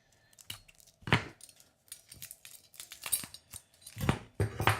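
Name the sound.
scissors cutting open jaw harp package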